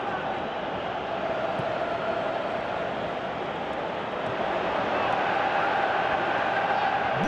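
A large stadium crowd in PES 2017 roars and applauds a dribble during a Rizespor vs Beşiktaş match, in a steady, dense wash of noise that swells slightly toward the end.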